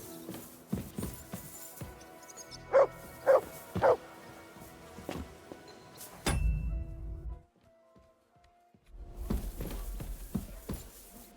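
A dog barks and whimpers: three sharp, close yips in quick succession, scattered softer whines and shuffling footsteps, then a low rumbling pause before more faint movement noises.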